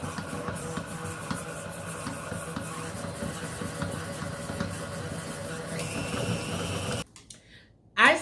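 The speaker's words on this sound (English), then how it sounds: "So let's get our mixer turned on and get this to fluffing." An electric mixer whirs steadily while creaming butter and sugar for lemon cupcakes, a continuous close motor drone that runs for several seconds before cutting off abruptly, followed by a brief quiet stretch and a short bump.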